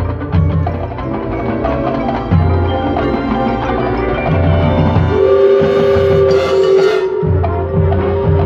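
A train sound effect played during a school stage performance: a rumbling train clatters along with rhythmic wheel thumps, then a long steady horn blast rises over it before the rumble carries on, loud and close.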